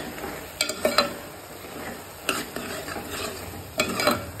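Ridge gourd stir-fry being stirred in a pan, with a spatula scraping in three bursts of quick scrapes and knocks over a faint steady sizzle, close and moderately loud, with no voices.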